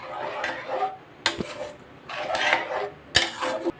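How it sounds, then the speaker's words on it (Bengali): Dal with jute leaves being stirred in a cooking pot, with metal utensil scrapes and clinks against the pot in irregular bursts, close and moderately loud. "এখন আমি এর ভিতর ঢেলে দিলাম। ভালো মতো নাড়াচাড়া দিয়ে দেব।"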